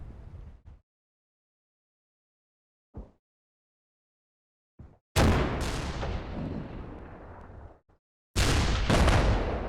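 Gunfire aimed at infantry in the Combat Mission: Red Thunder war game: a few short sharp cracks separated by silence, then two loud sustained booming bursts of fire with rumbling decay.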